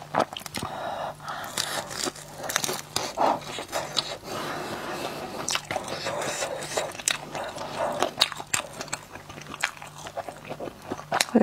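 Close, crisp biting and crunchy chewing of spicy seafood, with wet, irregular crunches and smacks repeating steadily for the whole stretch, no talking.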